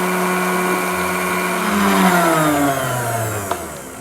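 Blender whirring through homemade mayonnaise as olive oil is added, a loud continuous motor drone with a pitch that shifts as the mixture thickens, ending in a small knock.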